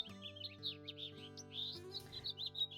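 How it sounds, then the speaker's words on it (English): Bright, chirpy birdsong in the Baten Kaitos game world, a string of quick tweets and trills repeating steadily over a sustained musical backdrop, with no voices. "Those are the birds that sit outside our windowsill at 6 o'clock in the morning"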